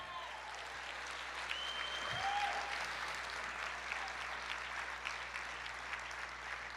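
A church congregation applauds in a sustained, fairly faint wash of clapping with a brief thump and a faint tonal sound in the middle, heard from some distance in a reverberant room.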